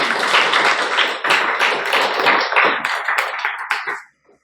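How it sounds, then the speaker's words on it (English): Audience at a Toastmasters club meeting breaks into steady, dense applause lasting about four seconds, close and fairly loud, then stops abruptly into silence. "Let's welcome him with a huge round of applause"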